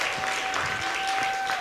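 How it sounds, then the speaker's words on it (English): Applause from a plenary audience at a conference on threatening technologies and circular soil ecosystems, a steady wash of many hands clapping throughout at moderate level, with a faint sustained tone running beneath it. "A massive applause for this presentation."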